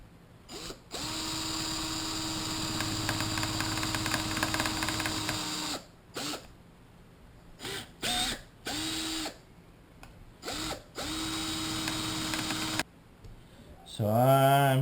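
A power drill bores into a part for a Mossberg AR15 rifle in a workshop. A long steady whine gives way to several short on-off bursts, and a brief different mechanical sound comes at the end.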